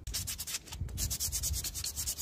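Rear brake pad from a scooter rubbed against sandpaper by hand, producing quick repeated scratchy strokes in a fast back-and-forth rhythm, close and moderately loud, with no talking.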